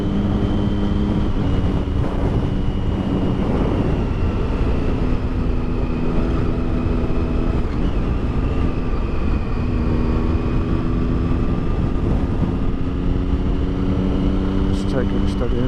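Motorcycles on a big group ride of around 200 bikes at Willingham Woods make a continuous engine drone with steady harmonic hum and wind buffeting, with rising pitch near the end, heard close and loud throughout.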